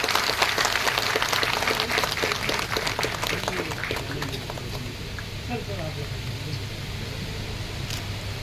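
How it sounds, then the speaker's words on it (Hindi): Audience applause at an officers' association meeting rises as dense clapping, then thins and fades out over several seconds while voices murmur underneath. "तालियों के साथ।"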